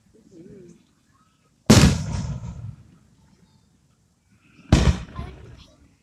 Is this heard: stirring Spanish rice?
no